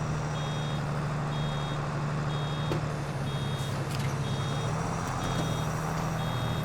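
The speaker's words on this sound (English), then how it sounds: "Pretty sure if I was in cab, I would hear that buzzer going off a little bit more than when I do I'm out of cab." Reversing buzzer on farm machinery in Farming Simulator 22, heard from outside the cab: a steady, fairly faint repeating beep in even pulses over a constant low engine drone.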